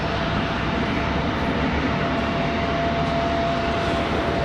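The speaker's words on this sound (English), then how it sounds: "Here comes JetBlue. That A220 back to Boston." A JetBlue Airbus A220 jet at RDU airport in Raleigh-Durham makes a dense, steady engine roar, loud and close, with a thin whining tone running through it and no voices.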